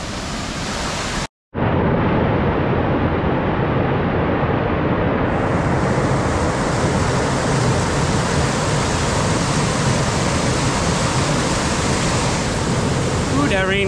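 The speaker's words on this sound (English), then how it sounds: "that rain got it coming down hard" Heavy rain pours down hard in the jungle of Cockscomb Basin near a waterfall, a loud dense continuous roar of water after a brief cut near the start.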